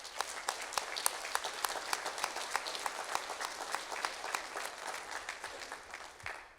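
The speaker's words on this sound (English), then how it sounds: "Now, how about a round of applause for all the families and friends of the Hampton Road class of 2023." Audience applause at a signing day ceremony for a graduating class, steady clapping from many hands with sharp individual claps standing out, moderately distant and fading slightly toward the end.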